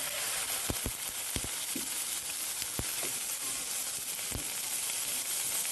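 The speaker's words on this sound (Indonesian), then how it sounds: "Lalu terakhir kita tambahkan sedikit air putih." Squid with spices sizzles in a pan after a little water is added, a loud continuous hiss with a few sharp pops and crackles throughout, no voices.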